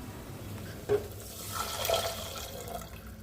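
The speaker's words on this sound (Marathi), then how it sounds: "आता आपण पाणी ॲड करूया." Water is added to a village-style egg curry simmering in a pan with oil and mutton masala, giving a soft, fairly quiet pouring hiss with a brief clink near the start, heard alone without speech.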